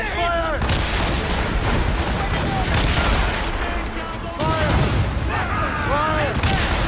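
Naval cannon broadsides from a sailing ship in the Assassin's Creed Rogue video game, with repeated booming volleys and crackling blasts. Shouted crew orders and battle noise run underneath, loud throughout.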